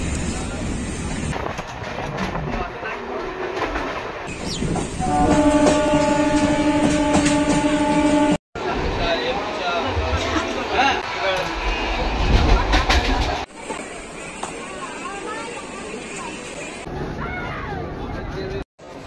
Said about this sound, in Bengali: সাহিত্য স্টেশন দিয়ে ট্রেন আমাদের ছেড়ে দিয়েছে।